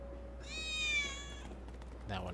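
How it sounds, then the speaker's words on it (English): A cat meows in the Final Fantasy VII Remake video game, one drawn-out, fairly clear call over low game ambience, followed by a short second sound. "Not really a cat person, are you, Cloud?"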